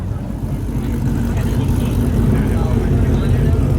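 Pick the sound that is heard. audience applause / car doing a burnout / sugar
car doing a burnout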